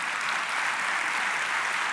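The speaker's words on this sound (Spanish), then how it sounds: "Dale un aplauso de nuevo a Dios fuerte por eso" A church congregation applauding at a Christian teaching event, a steady, dense wash of clapping from many hands throughout.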